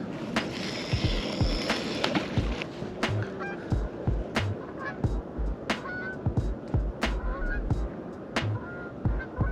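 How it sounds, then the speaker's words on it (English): A large flock of about 200 geese honks repeatedly overhead in late fall, the calls coming in quick irregular bursts against a rushing outdoor background. "Must have been 200 geese flying over there."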